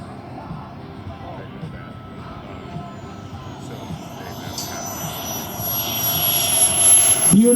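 A jet aircraft comes in to land during an air show over Arvada, a steady engine roar that swells louder toward the end, with crowd noise underneath and faint voices.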